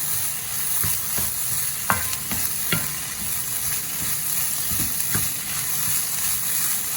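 Leftover mixed turmeric and basmati rice stir-fried in a pan, a constant bright sizzle with scattered scraping clicks of a spoon stirring through the grains, close and steady.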